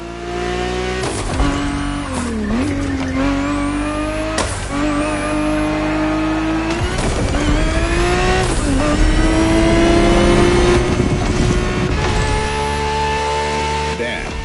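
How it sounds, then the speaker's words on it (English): A Ferrari 365 GTB4 races in The Crew Motorfest, its engine roaring loud and steady through repeated gear shifts and revving climbs, with brief tire squeals along the lap. "Ferrari 365 GTB4 is the perfect vehicle for you to experience Ferrari racing as it felt back in the 70s"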